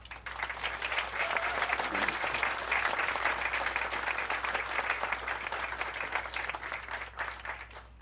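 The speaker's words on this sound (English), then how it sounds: "let's honor them and also give them a good applause" Sustained applause from an outdoor audience at a county campus ribbon-cutting ceremony, a dense, steady wash of many clapping hands lasting throughout and easing slightly at the end.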